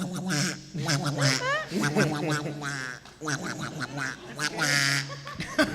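A person's voice imitates a jungle duck with nasal quacking calls, several bursts spread across the clip, close and fairly loud in a convention panel room.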